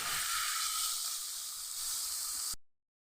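Garlic and chicken sauté in a pan with a soft, even sizzle and hiss that stops abruptly near the end.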